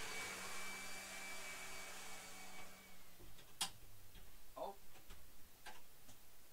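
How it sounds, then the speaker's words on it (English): A vacuum cleaner running in the background of a quiet room, a steady, distant whirring drone that fades off partway, followed by faint scattered ticks. "I am sorry for the vacuum cleaning in the background."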